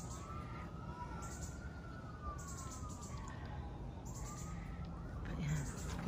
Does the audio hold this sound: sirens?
yes